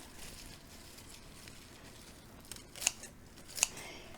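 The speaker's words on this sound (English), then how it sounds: "So I will just cut them down a few inches" Scissors snip salad greens grown indoors, cutting them a few inches down; a quiet rustle of leaves builds to two sharp, close snips near the end, with no voices.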